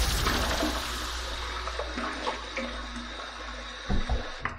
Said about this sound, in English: Let's wet the face and let's get to the shave.